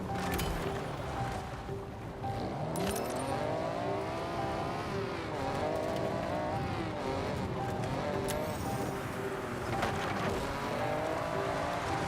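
A car engine in Forza Horizon 6 on a winding mountain road, with a steady drone whose pitch rises and falls through gear changes. It runs loud and continuous, with faint wind noise behind it.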